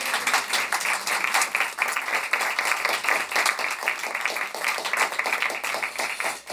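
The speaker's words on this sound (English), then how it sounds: "Please give her a round of applause, too." An audience applauds pianist Emily Jarell Urbanki at a Kentucky Opera performance of Dead Man Walking: sustained, dense clapping from a full crowd, fairly close and even, continuing without talk for several seconds.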